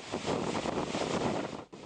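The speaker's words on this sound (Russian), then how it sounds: "Вот так выглядит шестибальный шторм." A force-six storm at sea blows a roaring, steady wind around a heavy thirty-ton wooden raft tossed on six-metre waves, loud and dense with a brief dip near the end.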